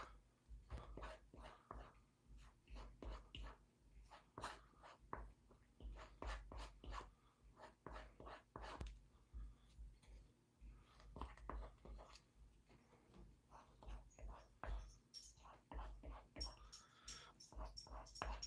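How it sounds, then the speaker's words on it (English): Shop dog Doug walks into a workshop, panting with quick, breathy rhythmic puffs and soft snuffles, close and fairly loud throughout, with light movement noises mixed in. "And in walks the shop dog yet again."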